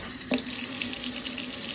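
Water pouring from a newly installed kitchen sink faucet into the basin, a steady close hiss of running water that starts abruptly and continues evenly with no speech.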